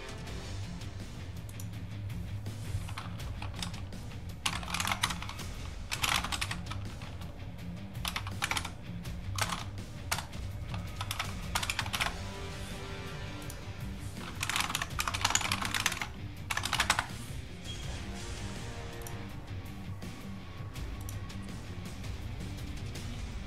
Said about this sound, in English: I see Bella typing.